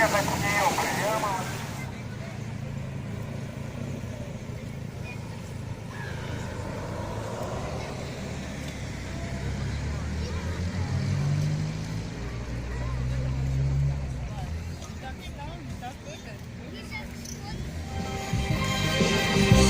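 A motorboat runs on the sea off Gagra, its engine a steady low rumble mixed with wind and water noise, while people talk over it near the microphone.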